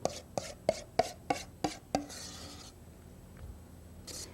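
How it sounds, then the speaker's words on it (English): Canned pumpkin scraped from a can with a utensil during Thanksgiving cooking: about seven sharp, evenly spaced scraping knocks over two seconds, then a quieter stretch of faint rubbing and room noise. "Let me scrape out my pumpkin."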